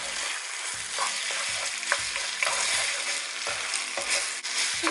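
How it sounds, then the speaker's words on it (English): Rice frying for nasi goreng in a hot oiled pan, a steady loud sizzle with a rhythmic scraping stir repeating roughly every half second, no talking. "Make sure you stir the rice as they are cooking"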